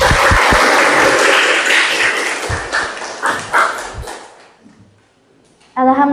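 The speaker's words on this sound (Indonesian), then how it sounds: "Tepuk tangan." Audience clapping at a school event at SMK Al Ghafur, a burst of many hands that thins into scattered claps and fades to near silence, followed by a brief tonal sound at the end.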